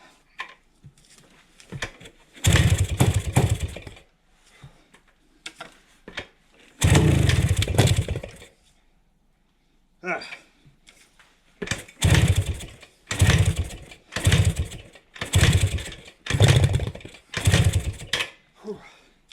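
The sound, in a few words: 1971 Kawasaki F7 motorcycle engine running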